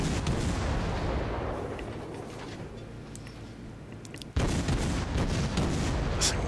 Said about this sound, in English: I gotta aim the guns up a little higher there